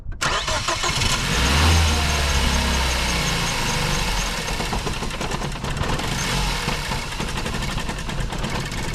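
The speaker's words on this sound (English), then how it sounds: "Go ahead and crank it and let's see what's going on." A 2014 Ford Focus engine cranks and catches, then idles roughly with an uneven, loud, close-up rumble and a faint ticking running throughout.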